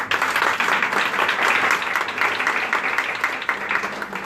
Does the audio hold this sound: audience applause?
yes